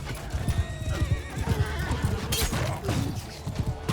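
Hooves of a fast horse gallop in a quick, even clip-clop rhythm in Mount & Blade II: Bannerlord, loud and close, with a whinny partway through.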